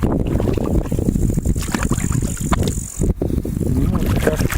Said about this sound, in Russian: Ну, как обычно, бензопила орет.